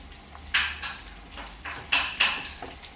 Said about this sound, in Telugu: ఇప్పుడు రెండో వాయి వేసానండి చూడండి ఎంత బాగా ఫ్రై అవుతుందో